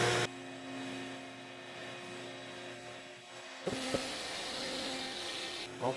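A CNC router with a compression bit cuts plywood drawer bottoms for a boat's custom drawers: a steady motor whine and hum, a brief clatter, then louder rough cutting noise.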